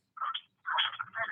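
Ringback tone on an outgoing phone call, two short warbling bursts separated by a brief gap, close and clear with no talk over it.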